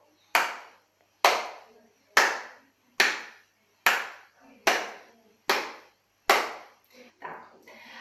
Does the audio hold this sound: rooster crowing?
no